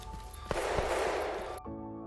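Pistol shots from the survival video game The Day Before: a couple of sharp reports ring out amid a dense, noisy burst of game sound, then it cuts off abruptly to a quieter tonal background.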